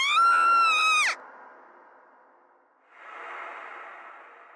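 A girl's high, shrill scream from the visual novel game Root Double rings out for about a second, then cuts off into a low airy whoosh and a softer rushing swell.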